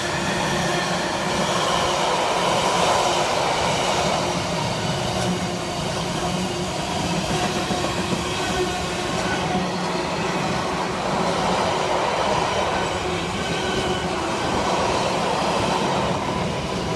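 Freightliner freight train hauled by Class 66 locomotive 66456 passing through Stafford station, a loud continuous rumble with rhythmic wheel clatter across the rails, wagons rolling by steadily throughout.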